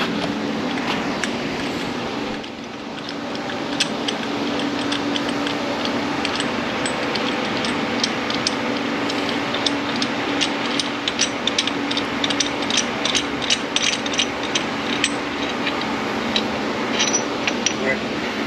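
A ratchet loosens a bolt on a Nissan R34 GTR engine during head removal, making a rapid, steady clicking that runs throughout, close and fairly loud over a constant background hum, with someone talking.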